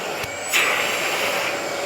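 A Vacmaster VK1330PWR 3-in-1 wet and dry vacuum with carpet shampooer clicks on and its motor rises into a loud, steady rushing whine that holds for the rest of the moment, with no voices over it.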